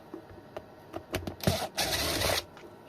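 Small screws being unscrewed from the case of a 48v 17.5Ah e-bike battery during a teardown, a few faint scratchy clicks and brief whirring bursts close up, quiet and uneven, with no talking.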